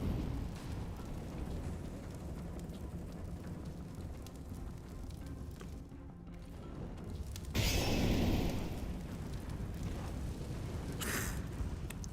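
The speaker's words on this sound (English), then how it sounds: "Deploying flashbang." A flashbang grenade in Counter-Strike: Global Offensive goes off as a sudden loud burst after a stretch of muffled game ambience, leaving a lingering hiss, with a shorter rush of noise following a few seconds later.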